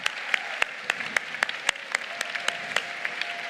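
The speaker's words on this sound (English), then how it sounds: "Let's give him a big round of applause." Audience applause at a FIRST robotics competition district event in Texas, a steady wash of many hands clapping with sharp individual claps standing out, moderately loud and continuous without talk.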